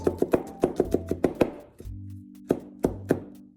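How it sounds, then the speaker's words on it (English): Garlic being roughly chopped with a knife on a cutting board, a quick run of close, crisp thunks followed by a short pause and a few more spaced taps. "Just roughly chop this"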